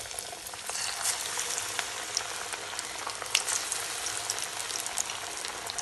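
Potato and onion pakora chops fry in hot white oil over medium heat, a steady dense bubbling sizzle with scattered crisp pops, close and even throughout.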